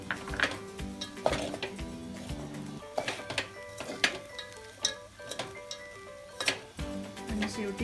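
Peanuts are sautéed and stirred in a pan for poha, heard mostly as repeated metallic clinks and taps of a spatula against the pan, irregular and close, over a soft tonal background.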